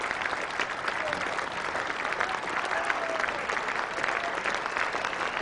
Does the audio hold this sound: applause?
yes